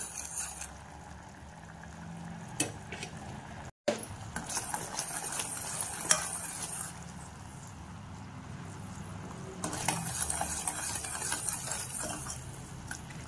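Jaggery syrup boiling in a pan gives off a faint, steady bubbling and popping patter that continues throughout with occasional louder bursts, with no talking.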